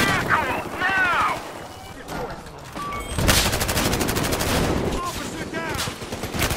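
Rapid gunfire in the police shooter game Battlefield Hardline, dense bursts of automatic fire running almost nonstop through a chaotic firefight, with in-game voices calling out over the shots.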